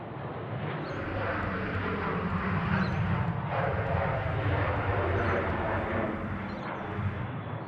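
A Qantas airliner on approach to runway 34 right at Sydney Airport makes a loud, continuous jet engine roar that swells and holds steady, heard from fairly close, with faint radio chatter underneath.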